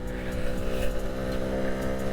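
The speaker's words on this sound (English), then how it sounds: "But the engine running quite healthy" A Honda C70 Passport motorcycle engine runs close by with a steady, humming buzz that holds even throughout, slightly rough and throaty.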